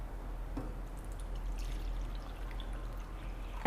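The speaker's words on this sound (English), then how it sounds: "Now I'll remove the water from the jar." Water pours steadily from a blender jar in a continuous splashing stream, close by with no talking.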